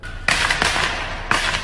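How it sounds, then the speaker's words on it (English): Fireworks going off on a side street at night, three sharp cracking bursts at about one-second intervals, fairly close and loud over a steady background hum. "fireworks are going off on a side street somewhere"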